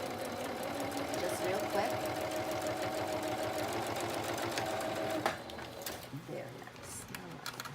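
A home sewing machine runs a straight stitch through paper pages near staples while making a baby girl journal, a steady mechanical whir that stops abruptly near the end, with brief quiet talk over it.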